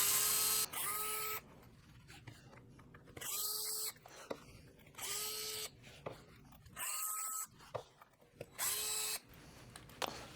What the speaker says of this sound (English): I'm going to take my gyroscopic drill here, and then just take off these off the motor cover.